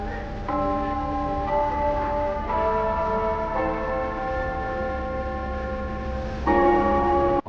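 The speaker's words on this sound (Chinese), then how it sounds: "听到了钟楼敲钟的声音" The Jianghan Customs clock tower bell in Wuhan strikes at six o'clock: several loud, resonant tolls with long ringing overtones, each new strike swelling over the hum of a busy city street.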